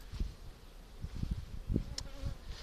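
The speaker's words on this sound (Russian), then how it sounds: "Вот пчела не может взлететь." A weak, faltering buzz from a dying bee unable to take off comes in short uneven bursts, close and quiet, stopping and starting instead of droning steadily.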